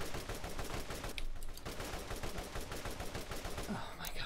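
Rapid automatic gunfire from the video game Borderlands, a dense, continuous stream of shots that is loud and close, with layered game effects filling the background throughout.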